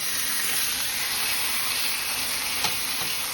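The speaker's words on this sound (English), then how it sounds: "If you hear that sizzle, you always know it means flavor." Pork strips laid flat in a hot pan sear with a loud, steady, close sizzle and crackle that runs unbroken throughout, with a couple of sharper pops near the end.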